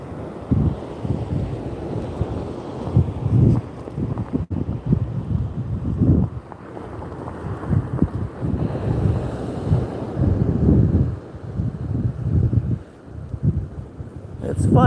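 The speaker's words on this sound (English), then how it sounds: "block the wind a little bit" Wind buffets the microphone on Pensacola Beach, a rough low rumble gusting and easing over distant surf, while a person talks intermittently.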